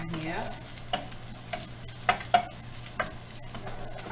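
Onions caramelize beside bacon frying in a pan for a bacon burger, a soft steady sizzle with a low hum underneath and several distinct utensil clinks and scrapes spaced through it, nearby and fairly quiet.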